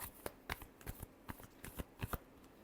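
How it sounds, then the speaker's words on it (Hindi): A deck of tarot cards is shuffled in a quiet room, giving a string of faint, crisp card slaps and riffles at an uneven rhythm, close up and unaccompanied by voices. "last shuffle"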